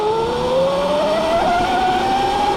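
A Surron electric dirt bike's drivetrain whines under load, a loud steady tone rising gradually in pitch over a constant mechanical hum, close and continuous.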